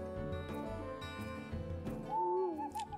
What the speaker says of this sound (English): Goddamn owls.